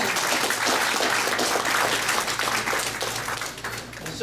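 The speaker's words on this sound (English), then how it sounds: "let's give them another round of applause" Sustained applause from an audience at a nursing home talent show, a dense continuous wash of clapping that stays loud and then tapers slightly at the end.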